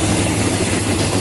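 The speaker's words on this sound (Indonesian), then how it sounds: "bunyi kereta api." A loud, steady rumble of a train rolling past close by, with continuous rail clatter and no voices.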